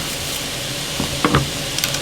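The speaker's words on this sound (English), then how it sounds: "As soon as this sausage is browning, then I'm going to throw in the mushrooms with the sausage." Sausage browning in a frying pan, a steady moderate sizzle throughout with a few brief scraping clatters from stirring near the middle.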